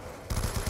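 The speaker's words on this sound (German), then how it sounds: "Ja, ich schiesse schon schnell." Rapid automatic gunfire from the Black Ops 2 Zombies game on the Nuketown map: a quick burst of about five punchy shots starts abruptly after a short quiet lead-in, loud and close.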